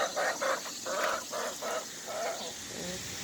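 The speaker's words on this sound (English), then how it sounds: "Decided to spend some time with the chickens today." Backyard chickens clucking in a series of short, rhythmic bursts at close range, then tapering off into softer, quieter calls toward the end, with no voices.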